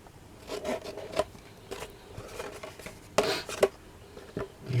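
Scissors cut away creased paper flaps from a punch-board treat box in short, separate snips and rustles, close and fairly quiet.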